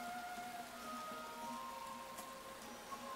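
Steady rain from the video game The Settlers Rise of an Empire hisses continuously at an even level, with a faint tonal hum running underneath and no voices.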